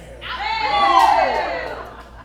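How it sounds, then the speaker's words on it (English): A theatre audience cheering together for about two seconds at a Shakespeare production of Pericles, the mixed voices rising to a loud peak and then fading. "Can we have a cheer for the beer?"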